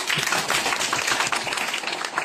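Loud, dense applause from an audience at a talk, continuous rapid clapping without pause, with no voices over it.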